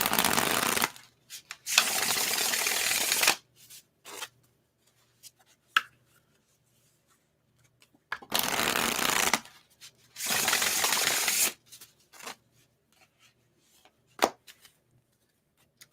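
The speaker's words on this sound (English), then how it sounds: "I want to shuffle a little bit more." Tarot cards shuffled in several loud riffling bursts of a second or two each, separated by quiet gaps with scattered soft taps and card handling sounds, no talk.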